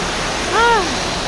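A raging glacial river rushing past below a giant cliff while backpacking in Patagonia's Tierra del Fuego: loud, steady broadband roar of water close by, with a brief whistling tone rising and falling over it midway.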